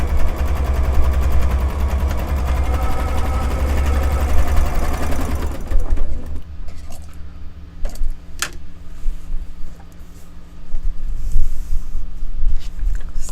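A sewing machine stitches a quilt block with a loud, rapid, continuous mechanical whir for about six seconds, then stops, followed by scattered clicks and handling noises of fabric at the machine.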